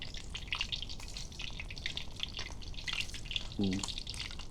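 Chicken feet fry in oil with a constant crackling, bubbling sizzle up close, and a short burst of a voice sounds near the end.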